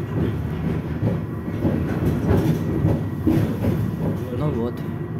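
Route 6 tram, car No. 1210, pulling away from a stop with a steady rumble and rhythmic wheel clatter close by, a few faint squeals, and voices speaking over it.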